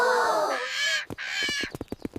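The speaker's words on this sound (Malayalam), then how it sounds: "കിളി പോകുന്നു" A cartoon crow-like bird in an AI animation gives loud, harsh caws, then a quick series of short, clipped calls, close and clear with no talking.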